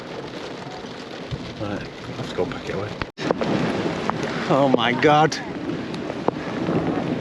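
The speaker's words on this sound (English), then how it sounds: "Bit windy as well." Strong wind roars steadily against the microphone with rough gusts, while people talk loudly over it.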